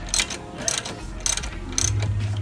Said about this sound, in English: So yeah, we're getting our sway bar, 14 millimeter, loose right there.